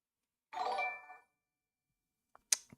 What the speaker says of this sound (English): jingle bell thing that goes on Streamlabs every single time a friend of ours follows or subscribes on YouTube